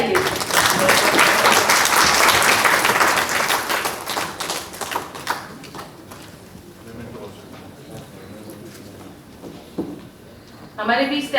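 An audience at an international Hindi conference applauds, loud dense clapping at first that thins into scattered claps, with a voice speaking over it and a short burst of talk at the end.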